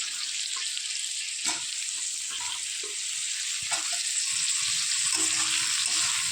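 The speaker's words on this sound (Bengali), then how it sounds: "এখানে কেটে রাখা যে ফুলকপি ভালো করে ধুয়েও রেখে দিয়েছিলাম, তো এগুলো দিয়ে দেবো। দিয়ে ভালো করে কষিয়ে নেব।" Washed, cut cauliflower sizzles loudly in a hot pan for a Bengali curry, a constant close hiss broken by occasional scrapes and clinks of stirring.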